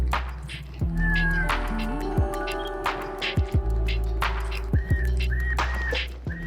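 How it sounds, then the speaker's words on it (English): A Pentax MX1 camera plays a synthetic meow sound effect, several short cat-like calls and whistly tones in a row, with a steady background hum and a few soft clicks. "You can change the menu settings to where it meows."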